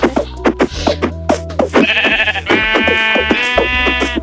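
Sheep bleat repeatedly in Minecraft, loud and close, over game music and clicking sounds, with one long wavering bleat near the end.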